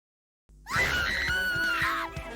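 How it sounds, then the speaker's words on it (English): A young woman's long, loud, anguished scream in the video game Project Eden's Garden, bursting in after a moment of silence and sustained with a wavering pitch before breaking off. "The scream sounds so authentic."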